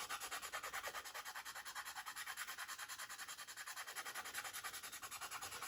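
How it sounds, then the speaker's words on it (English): Steady, even strokes of a hand file rasp across hardened CA glue and metallic pigment filler on a 1/24 Airfix P-51D Mustang model kit, a close, continuous scratching rub that pulses in a regular back-and-forth rhythm with no talking. "I'm going to take a file, and I'm just going to go over and knock down most of my filler"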